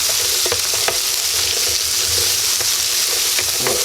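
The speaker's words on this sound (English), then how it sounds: "We're gonna give them a stir." Home fries frying in a pan and being stirred, a loud constant sizzle with repeated spatula scrapes and clicks throughout.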